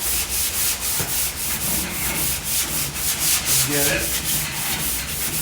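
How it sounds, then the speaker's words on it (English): Steady rhythmic rasping of hand sanding body filler on a Porsche 356 panel, brisk back-and-forth strokes close by, with a brief muttered voice near the end. "Just keep sanding."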